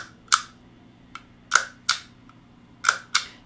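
A guitar freeze pedal's footswitch clacks sharply, six crisp isolated clicks at irregular spacing, close and dry against a quiet background hum.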